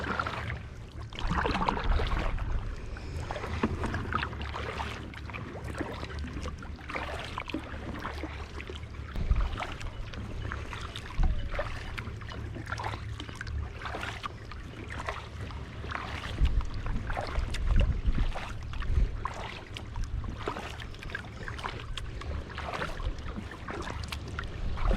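A kayak paddled on open water off Cuttyhunk Island, with soft repeated splashes and drips from the paddle strokes at an even, unhurried rhythm over a steady wash of water and light wind, close by and without talk.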